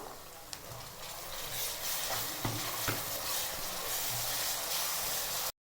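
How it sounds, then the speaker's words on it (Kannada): Onions and green chillies frying in a pan for biryani give a loud, steady sizzle broken by a few sharp spatula scrapes and knocks, ending with an abrupt cutoff; no speech is heard. "ಈರುಳ್ಳಿ ಚೆನ್ನಾಗಿ ಫ್ರೈ ಮಾಡ್ಕೊತಾ ಇದ್ದೀನಿ"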